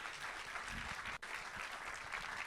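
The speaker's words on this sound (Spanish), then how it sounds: "denle un aplauso fuerte si se lo va a dar" A church congregation at a Christmas service claps together in a steady, continuous round, heard at a distance and fairly quiet with a brief dropout midway, no talking on top.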